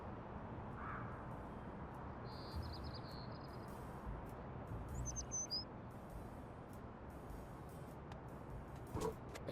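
Faint bird chirps in the video game Little Kitty, Big City, a few brief high tweets scattered over a steady ambient outdoor hum, with no talking.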